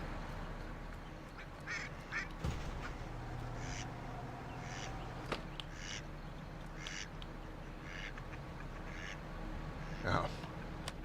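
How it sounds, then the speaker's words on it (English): A farmyard of ducks in Farming Simulator 19 quacks in short, scattered bursts at low volume over a steady ambient hum, with a few sharper clicks in between. "Hello, ducks."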